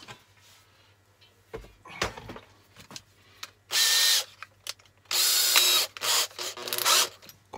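A small handheld power drill boring a hole in metal, heard in several short loud whirring bursts separated by quieter handling clicks and rattles.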